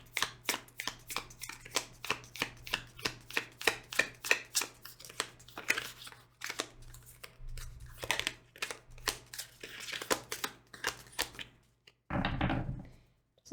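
Tarot cards being shuffled by hand in a rapid run of crisp riffling snaps for several seconds, then a few slower flicks and one longer rustling burst near the end, recorded close and with no talking.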